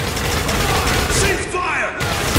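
Dense gunfire in the Spec Ops: The Line video game, a loud continuous fusillade of rapid shots and thuds with shouting voices mixed through the firing.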